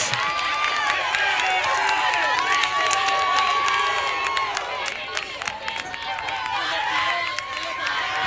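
Loud crowd at a college softball championship game cheering, clapping and shouting continuously, dense and close, with voices mixed into the roar.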